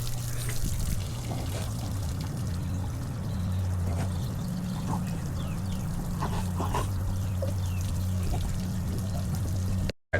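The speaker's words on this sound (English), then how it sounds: "Our pump is a little too powerful for this little bucket" A pond pump pushes water into a small bucket, giving a steady, moderately quiet pouring and splashing trickle with a low motor hum beneath, continuous until an abrupt stop.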